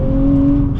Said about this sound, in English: The induction noise is good as well.